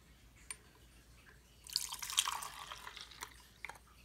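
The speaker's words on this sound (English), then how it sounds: "I should pour a little bit more" Water is poured into a mini washing machine holding a makeup sponge, a soft splashing trickle that swells midway, then fades into a few scattered drips.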